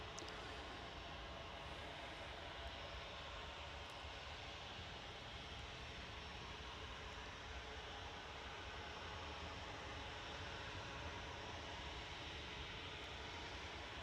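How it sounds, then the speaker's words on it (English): An SAS airliner from Copenhagen on final approach into Manchester Airport gives a steady broadband engine roar, distant and constant for the whole stretch, with no talking. "Got a SAS coming in on final, coming from Copenhagen"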